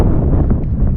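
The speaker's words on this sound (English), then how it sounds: "it does seem that it's a bit windy" Gusty wind buffets an outdoor microphone in a low, loud rumble that fills the whole second with uneven thumps, no voices.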